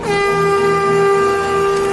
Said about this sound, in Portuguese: ele tocou uma corneta de chifre de carneiro para chamar os homens de Israel para a luta